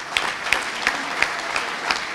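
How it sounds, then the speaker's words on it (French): Applause greets a town mayor at a ceremony awarding startup funds, heard as a short run of distinct, rhythmic claps about every third of a second, close and moderately loud, rather than a dense crowd ovation. "je voudrais que vous fassiez une grande ovation"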